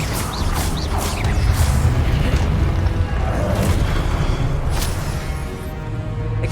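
Fiery spell blast from the Hogwarts Legacy video game during a boss fight, a heavy booming explosion with crackling bursts that rolls on loudly and continuously, layered with battle effects and no talking.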